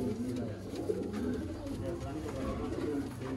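A Ferozpuri pigeon coos softly in low, repeated throaty phrases amid faint background noise.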